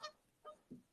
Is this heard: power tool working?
no